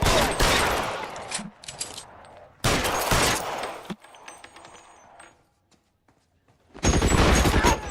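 Tommy gun fire in a video game comes as loud, dense automatic bursts. Long rattling volleys are separated by quieter gaps with faint clinks and tones, and a final heavy burst closes it out. No one talks.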